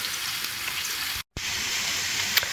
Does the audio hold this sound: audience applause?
no